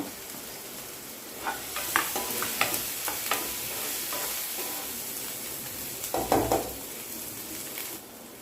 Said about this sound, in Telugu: ఇప్పుడు అల్లం వెల్లుల్లి పేస్ట్ వేసుకొని పచ్చివాసన పోయేంత వరకు కలుపుకోవాలి